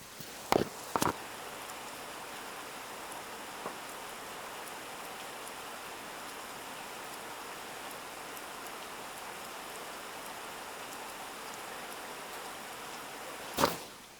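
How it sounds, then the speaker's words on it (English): Rain falls as a soft, steady hiss throughout, faint and even, with a few brief louder clicks and taps near the start and end. "Do you hear the rain?"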